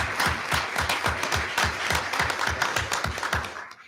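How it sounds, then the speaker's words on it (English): Warm applause fills a school board meeting room, a dense steady clapping from the audience that carries on evenly and then fades out at the end. "One more round of applause, please."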